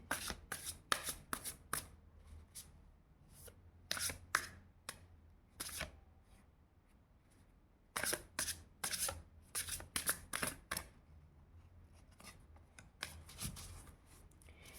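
Tarot cards are shuffled by hand in two bursts of quick, crisp riffling flutters, close and fairly quiet, with a pause between them.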